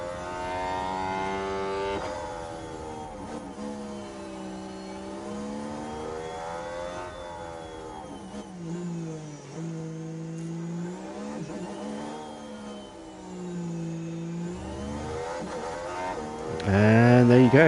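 F1 car engine in the Monaco tunnel, from the F1 Manager 23 racing game: a steady, loud, rising and falling whine with a hollow echo, swelling sharply near the end.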